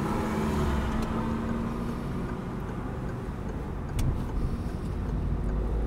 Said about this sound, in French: il faut accélérer un peu hein, et mettre la 2